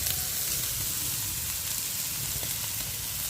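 Onion fries in a pan with a constant close sizzle and soft hiss, an even crackling texture throughout and no voices.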